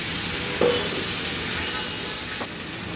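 Tomatoes with a little salt frying in oil in a pan: a continuous close sizzle with a couple of brief scraping strokes from stirring.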